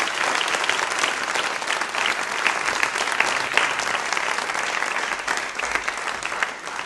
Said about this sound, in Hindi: एक बार तालियां प्रीति मैम के लिए जोरदार वाली नीचे।